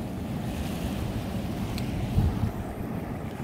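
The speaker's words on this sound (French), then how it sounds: "Regarde déjà le ressac qu'il y a ici." Steady low rumble of surf washing onto the shore, continuous and fairly close, with a slight swell of louder water near the end and some wind noise.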